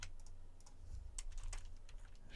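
Keys on a computer keyboard are typed in quick, uneven taps, soft and close, over a low background hum.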